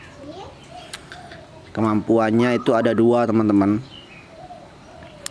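A zebra dove (perkutut), perched on a branch, gives a close, rhythmic series of bubbling coos lasting about two seconds while someone talks before and after.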